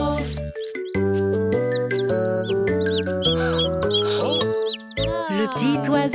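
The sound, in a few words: small bird chirping, cartoon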